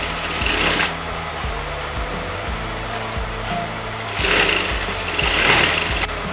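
Sewing machine running a long gathering stitch on fabric for a circle skirt lehenga, a close, steady mechanical whir with rapid needle clatter, swelling louder in two bursts between quieter stretches.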